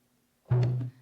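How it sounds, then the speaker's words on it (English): Conga drum sample distorted into a pitched musical note: after near silence, one short, loud, buzzy low tone hits abruptly and holds for under half a second before cutting off. "I took an audio sample of someone playing the conga drums, and I cut the drum beats and I distorted them into notes"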